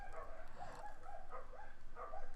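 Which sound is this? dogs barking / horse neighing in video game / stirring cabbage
dogs barking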